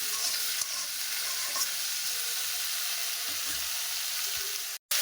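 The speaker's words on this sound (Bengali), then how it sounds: "বেগুনটা একটু ভাজা ভাজা হবে।" Potato and eggplant pieces sizzle in hot oil with dried chili and bay leaf, a constant close-up hiss with a few faint stirring taps, cut off briefly near the end.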